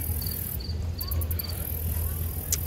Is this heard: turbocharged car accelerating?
no